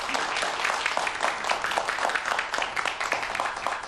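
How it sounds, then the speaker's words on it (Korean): Sustained audience applause after a professor's mathematics lecture at Inha University in Korea, a dense wash of many hands clapping steadily and fairly loud for a few seconds with no pauses. "다시 한번 큰 박수 부탁드릴게요"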